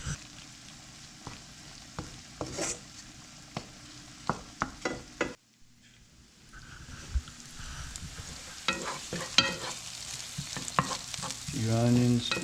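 Morel mushrooms fry in a pan seasoned with salt, pepper and garlic powder, giving a steady close sizzle broken by repeated spatula stirs and scrapes, a brief lull midway, then busier clatter and louder frying toward the end.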